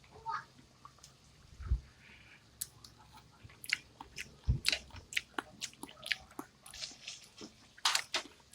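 Close, wet chewing and biting of cooked bamboo shoot adobo, Ilocano style, with irregular soft crunches and smacks spread over several seconds in a quiet room.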